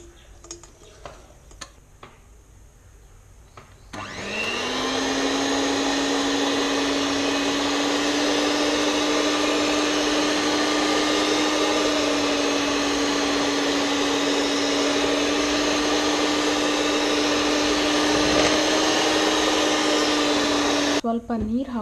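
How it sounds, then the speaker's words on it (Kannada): Hand blender whipping cream to make butter at home: a few light taps, then the motor starts and holds a loud, steady whine for about seventeen seconds before cutting off. "ಹ್ಯಾಂಡ್ ಬ್ಲೆಂಡರ್ ಯೂಸ್ ಮಾಡಿಬಿಟ್ಟು"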